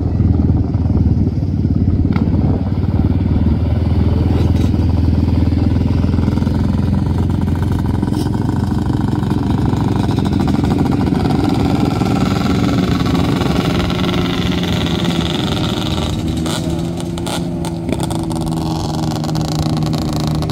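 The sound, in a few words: motorcycles riding and revving in the desert in Kuwait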